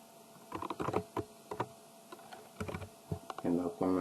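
Keys clatter on a computer keyboard while a code comment is typed into an HTML file, irregular bursts of close, fairly soft clicks with short pauses between them.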